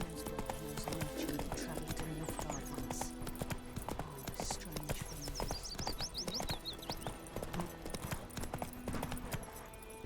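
Roach, the horse in The Witcher 3, gallops in a fast, continuous clip-clop of hooves under game sounds, with talk layered over it.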